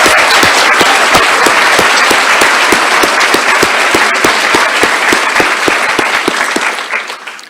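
Sustained applause from a large audience at a nurse anesthesia graduation and recognition ceremony, dense steady clapping with sharper individual claps standing out, fading away at the end.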